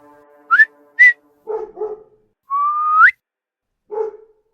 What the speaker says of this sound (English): A low to high whistle.